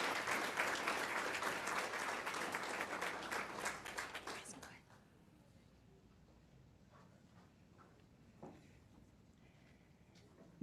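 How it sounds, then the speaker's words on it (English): A round of applause at a school district governing board meeting rings out for about five seconds, then stops abruptly, leaving quiet room noise with a few faint sounds. "Let's give them one more round of applause."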